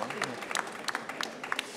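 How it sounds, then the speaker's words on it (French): Audience applause for four students in a lecture hall, a scattered patter of claps with sharp individual hits, moderately faint and roomy, a brief burst under low chatter. "je tiens d'abord pour celles et ceux qui sont là d'applaudir nos 4 étudiants"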